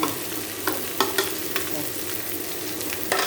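Freshly pounded garlic and shallot paste stir-fried in oil for a home-style Thai chicken dish, a continuous close sizzle broken by repeated clacks and scrapes of the utensil against the pan.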